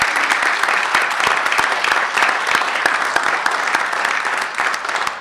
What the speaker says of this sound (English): Let's give them all one last round of applause.